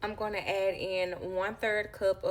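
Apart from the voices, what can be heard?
None of the usual background noises is heard.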